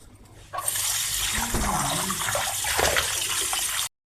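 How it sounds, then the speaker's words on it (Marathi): A kitchen mixer grinder grinds semolina batter for suji chilla with a steady, dense whirring roar that starts abruptly and cuts off sharply after about three seconds. "मी आता याला मिक्सरमधनं बारीक करून घेते थोडं"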